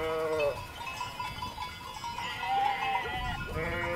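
Sheep bleating in the Engadin valley of the Swiss Alps, several wavering bleats overlapping near and far across a few seconds over a soft outdoor background.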